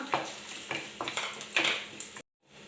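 Cashews and raisins frying in hot ghee for Malabar unnakkaya, a close crackling sizzle with repeated scraping stirs of a spoon in the pan, ending in a sudden brief cut to silence.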